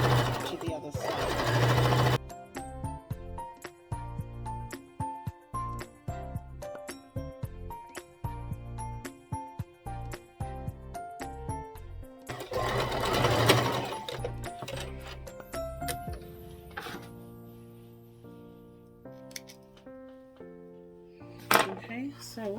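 Sewing machine stitching a pleated maxi skirt, running in rapid mechanical bursts with pauses between passes, close and fairly loud, with a person talking over parts of it.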